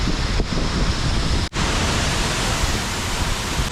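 Sawatsada waterfall pours down with force, a loud, dense, unbroken roar of falling water that drops out for an instant midway.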